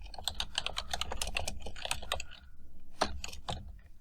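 Rapid, steady keystrokes as a C++ comment is typed on a computer keyboard, close and clicky with a short pause midway, no voices.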